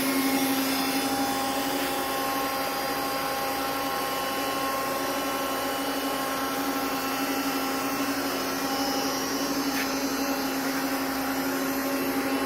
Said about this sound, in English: Let the pump warm up a little bit.